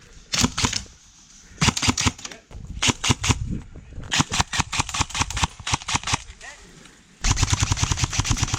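Airsoft gun firing during gameplay: loud, close bursts of rapid clattering shots, some short and some long, broken by brief pauses, with faint background noise between the bursts.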